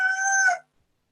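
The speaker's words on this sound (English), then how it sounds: "We need to record and decipher the rooster." A rooster gives one brief, bright crow-like call, loud and close, cut off abruptly into silence with no speech.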